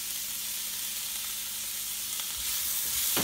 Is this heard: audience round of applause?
no